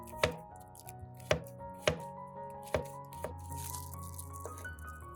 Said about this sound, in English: Prepare 5 to 7 cloves of garlic and slice them.